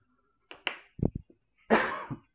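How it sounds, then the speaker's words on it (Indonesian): A lecturer teaching calculus coughs a few times, short sharp bursts followed by a longer harsher cough, close and alone without talk. "Maaf, batuk."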